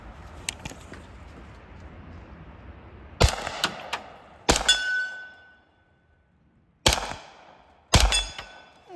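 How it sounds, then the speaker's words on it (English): Four sharp, loud gunshots from a Ruger LC carbine in 45 ACP crack outdoors at uneven intervals, each with a short ringing tail, after a quieter stretch of faint ticks and clicks. "I'm gonna shoot it with a 45 ACP so you can see the difference."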